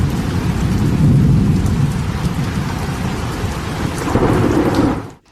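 Heavy rain pours steadily in Saudi Arabia, around Riyadh, with deep thunder rumbling beneath the loud, continuous downpour. No voices are heard, and the sound cuts off abruptly at the end.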